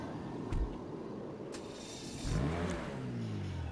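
Car driving in Grand Theft Auto V, a fairly quiet engine that rises into a revving, accelerating whine partway through and then holds, with a couple of brief knocks before it.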